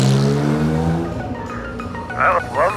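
An Acura race car engine fires and revs, its pitch climbing and then settling as the car pulls away, loud and close, with tire noise and brief bursts of speech around it.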